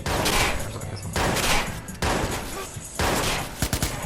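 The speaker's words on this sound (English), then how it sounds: "he's shooting at us" Gunfire in the video game Watch Dogs: several loud bursts of rapid shots in separate volleys, each roughly a second long, filling the mix with sharp cracks and little pause between them.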